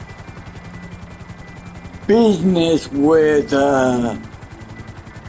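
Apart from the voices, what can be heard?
helicopter in a video game helicopter tour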